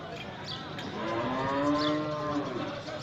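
A cow moos at a busy livestock market, a long drawn-out low call rising and falling over crowd chatter, with a second fainter moo in the background.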